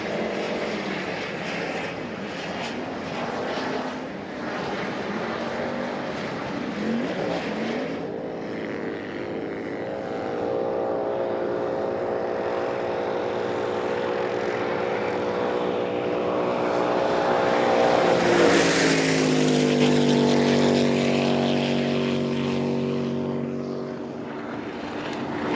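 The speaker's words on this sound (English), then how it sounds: "it's a pretty tight race between these 2 boats" Jet boats racing at a world championship event, engines roaring continuously and loud throughout, with a rising, whining pitch sweep as a boat accelerates past near the end.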